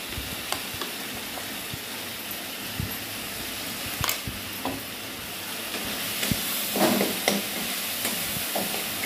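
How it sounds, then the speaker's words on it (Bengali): Mustard paste frying with a fish curry in a pan gives a steady low sizzle, with scattered clicks and scrapes of stirring throughout and a slightly louder burst of frying toward the end. "একটু হালকা কষবো, কেন সর্ষে বেশি কষলে তেতো লাগে।"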